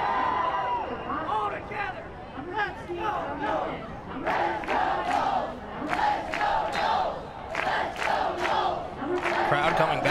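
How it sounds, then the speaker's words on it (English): Home crowd at a women's college soccer match in Tallahassee, Florida State against Florida Gulf Coast, cheering and shouting in a stadium, a steady roar with louder surging bursts that build through the clip. "Crowd coming back to life."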